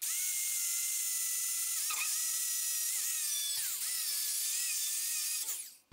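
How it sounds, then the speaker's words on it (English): A 60 grit flap disc on an angle grinder clears burrs off steel firewall roll bar brackets, a loud sustained high whine with slight pitch dips as it bites, then winding down at the end. "This has got a flapper disc on it."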